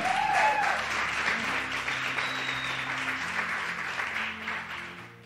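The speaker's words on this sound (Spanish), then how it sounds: "Si lo cree, denle un aplauso al Señor." Steady applause fills a church as the congregation claps for the Lord, a broad, sustained patter of many hands with faint tonal music beneath it.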